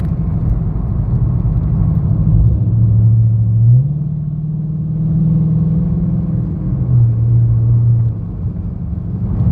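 A 2013 Dodge Charger R/T with a 5.7L Hemi V8 cruises, heard from inside the cabin as a steady, loud low rumble whose pitch rises and settles with small throttle changes.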